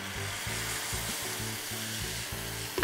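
Ground chili paste frying with softened onions in a pan for a bachelor-style fried boiled egg dish, a steady close sizzle with rhythmic low stirring scrapes, continuous throughout and no voices.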